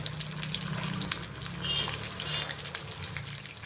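Prawns for a home-style Prawn 65 frying in hot oil, giving a steady close crackle and hiss with faint bubbling throughout and no talk.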